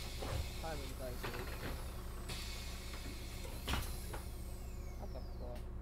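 Doors of a Volvo 7700A bus open in the OMSI 2 simulator: two short pneumatic hisses of air, the second stronger, over a steady low idling engine hum, with a voice speaking at times.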